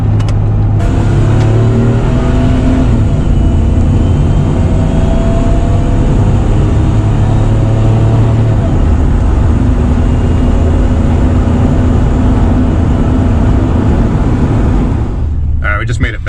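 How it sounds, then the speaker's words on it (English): Car driving along with a steady loud engine and road roar close inside the cabin, the note swelling as it picks up speed, a brief clunk near the end. "I'm gonna drive around a little bit and then head back."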